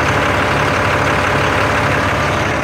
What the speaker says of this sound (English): You can see the engine turning here.